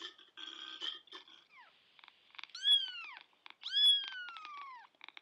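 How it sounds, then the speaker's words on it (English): A kitten meows two or three times, drawn-out rising and falling cries at moderate loudness, with faint chirpy sounds between them and no speech. "Kitten."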